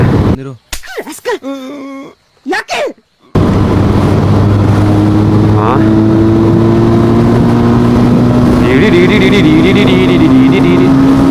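After a few seconds of talking, a motor engine drones loudly and steadily nearby, its pitch rising briefly as it revs.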